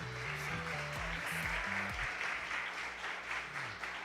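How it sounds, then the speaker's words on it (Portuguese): A church congregation applauds in a steady, fairly soft wash of clapping while music plays underneath, the clapping holding evenly throughout. "você pode aplaudir."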